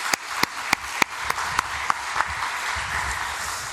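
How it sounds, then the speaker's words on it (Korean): A church congregation at a Sunday worship service applauds in thanks, with rhythmic clapping and sharp distinct claps over a dense crowd wash of applause that keeps going steadily throughout. "우리 하나님께 감사의 박수 한번 올려드리겠습니다"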